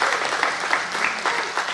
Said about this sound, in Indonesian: Mari kita tepuk tangan dulu untuk anak-anak muda.